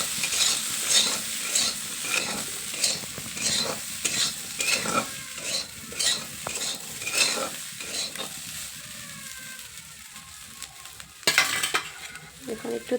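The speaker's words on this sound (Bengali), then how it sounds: "একটু নাড়াচাড়া দিয়ে উঠিয়ে নিব এখন ঢাকনাটা। নাড়াচাড়া দিয়ে দেবো।" In a frying pan, food crackles over a steady sizzle while a spatula scrapes in a regular rhythm about once a second, ending in a louder clatter, with no talk.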